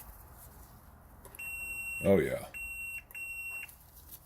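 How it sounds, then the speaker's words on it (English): Several short, clear electronic beeps from a continuity tester, each lasting about a second with pauses between, while a person speaks briefly over one of them. "We're just going to listen for the beep."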